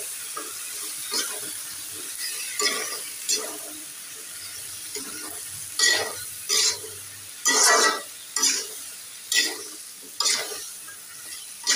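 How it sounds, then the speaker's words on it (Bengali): Jackfruit pieces stirred with spices in a pan, a quiet sizzle under intermittent scraping and shuffling strokes that come in uneven bursts, louder in the second half. "এটা সুন্দর করে নেড়ে চেড়ে মশলার সঙ্গে মিশিয়ে কষিয়ে রান্না করবো"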